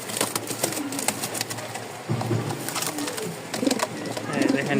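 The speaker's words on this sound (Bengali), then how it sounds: "ডাক দেখেন মার্শাল্লাহ পাগলা নর" A male pigeon coos repeatedly at a pigeon farm, soft throaty calls close by under a voice speaking, with other birds faintly in the background.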